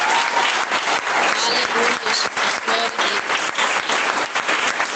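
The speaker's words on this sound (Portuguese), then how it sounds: "dá uma salva de palmas para o Rei Jesus." A church congregation claps and cheers in praise during an evening service, dense sustained applause filling the room while a preacher's voice calls out over it.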